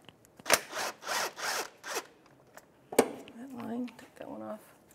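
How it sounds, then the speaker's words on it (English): A socket wrench with a 15 millimeter socket works bolts on a 2006-2013 Chevrolet Impala engine, with several close rhythmic ratcheting bursts followed by a metallic clank, and someone speaking briefly near the end. "So I'm going to start removing the bolts."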